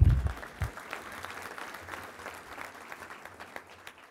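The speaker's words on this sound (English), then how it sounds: "you can clap for that" A touchdown club luncheon crowd gives a quick burst of applause after a low thump at the start, with the clapping thinning out over a few seconds.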